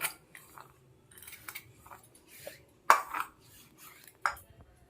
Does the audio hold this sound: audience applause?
no